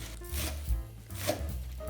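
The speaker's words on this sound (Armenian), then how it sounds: "մանր կտրատում ենք սոխը" Knife chopping onion finely on a board, a few dull close taps and thuds spread over a couple of seconds, fairly quiet.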